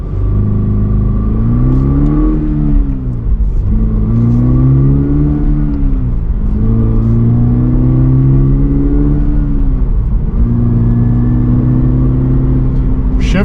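A 2024 Toyota GR86 Base sports car accelerates hard through the gears, its engine note climbing in four steady sweeps with brief dips at each shift, loud and close from inside the cabin.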